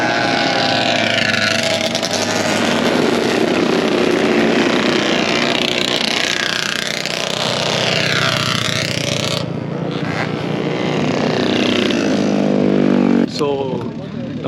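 Motorcycles roar at a drag race meet, engines screaming up through rising and falling revs, loud and close, with a sharp cut near the end while people talk in the background.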